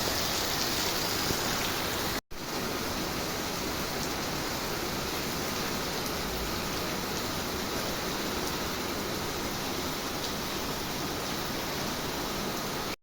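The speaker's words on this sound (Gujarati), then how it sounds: "ઓહો, કેટલો બધો વરસાદ આવે ભાઈ સાહેબ." Heavy rain pours in a steady, dense, loud hiss that barely changes, cut by one brief dropout a couple of seconds in; no one speaks.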